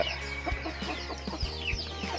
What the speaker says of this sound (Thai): เป็ดบาร์เบอรี่นะครับ เลี้ยงง่ายครับเลี้ยงง่าย